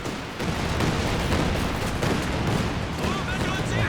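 A Calliope rocket artillery barrage lands in a Company of Heroes 2 match: a dense, continuous roll of rapid launches and impacts that rumbles steadily at high volume throughout, without pauses.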